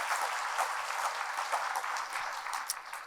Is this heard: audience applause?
yes